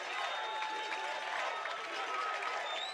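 North Alabama football fans in a college stadium cheer against Valdosta State in a steady, distant crowd roar that holds level throughout, with a faint thin tone running beneath.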